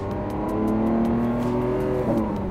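A 2021 Lamborghini SVJ supercar with valved exhaust revs its engine: a loud, close, sustained howl rising in pitch, then dropping sharply near the end before building again.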